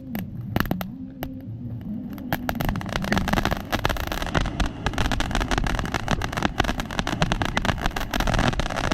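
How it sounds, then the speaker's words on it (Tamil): Thirumalai Fireworks Big Bang firecracker going off in a Sivakasi cracker test, a dense run of sharp crackling bursts and pops that keeps up steadily, loud and close, with no voices. "அடுத்தது திருமலை ஃபயர் ஒர்க்ஸோட பிக் பேங்கு."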